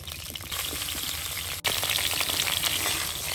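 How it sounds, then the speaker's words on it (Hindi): Cauliflower frying in a hot pan gives off a loud, steady sizzle that crackles without pause, with one brief dip partway through, and nobody speaks over it. "इसी में सबसे पहले हम गोभी को डाल देंगे और डाल के 3-4 मिनट इसको हम भून लेंगे।"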